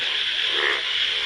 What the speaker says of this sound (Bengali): শুধু খালি ব্যাঙ্গের শব্দই